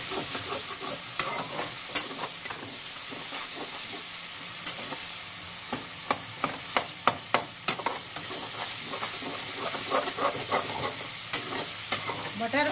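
Peas frying with softened tomatoes in a pan, a steady sizzle under repeated scraping strokes of a spoon stirring, with sharp clicks of utensil against the pan peaking in the middle; no voices.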